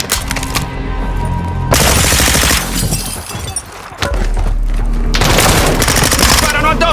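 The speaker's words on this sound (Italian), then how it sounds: "Sparano addosso!" Heavy automatic gunfire from the Call of Duty campaign roars loud and continuous in long bursts, with sharp impacts and debris crashing between volleys.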